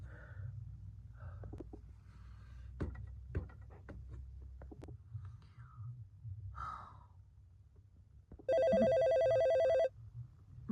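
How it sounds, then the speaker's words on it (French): A telephone rings once in a short electronic burst near the end, following quiet breathing and faint rustling sounds. "Mon téléphone sonne."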